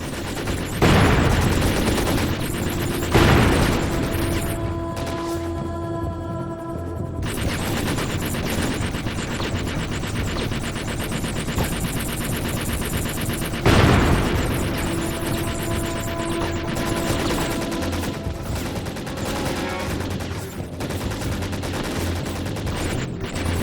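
Video game gunfire on a ship's deck as armed pirates hold its weapon systems: sustained rapid automatic fire with heavy booming bursts at intervals, loud and continuous throughout.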